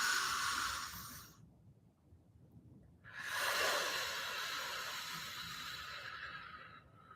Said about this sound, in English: take a grounding breath that's deep and drawing that into your belly and extending the exhale